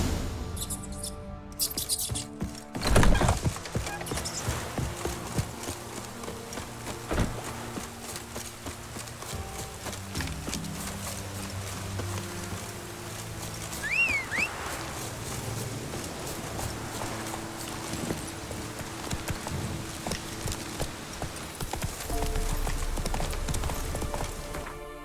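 In The Witcher 3 video game, the horse Roach moves at pace with a steady stream of hoof clip-clops, alongside scattered thuds, faint bird chirps and ambient game sound.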